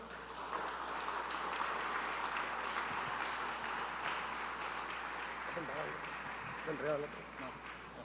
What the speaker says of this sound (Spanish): Demos un aplauso al hermano.